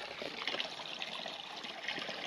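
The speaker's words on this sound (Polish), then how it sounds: "Troszeczkę wody tutaj płynie," Water trickling through a drainage channel in an underground bunker tunnel of a fortified region, a faint continuous babbling flow with no voices.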